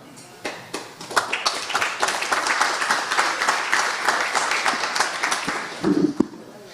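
A symposium audience breaks into sustained, dense applause, a wash of many hands clapping together, building quickly and holding steady before thinning out near the end.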